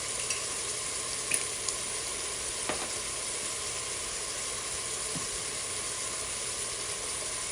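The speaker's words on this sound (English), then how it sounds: "go ahead and just start stirring and breaking down that little frozen chunk" Hamburger mac cooking in one pot, a steady frying sizzle and hiss running throughout while a spoon stirs and breaks up a frozen chunk, giving a few soft scraping taps over the constant crackle.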